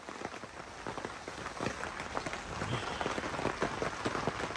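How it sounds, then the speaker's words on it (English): Steady rain patters on a hot tent during hours of moderate to light rainfall, a dense, soft wash of drops with scattered sharper taps, fairly faint and even throughout with no talking. "It's been raining like this for hours, okay?"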